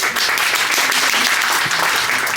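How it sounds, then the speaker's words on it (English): Passengers at a morning talk aboard the cruise ship Nieuw Amsterdam, sailing in Alaska, break into warm applause, a dense close burst of many hands clapping without pause. "So if everybody could give a round of applause for Kurt."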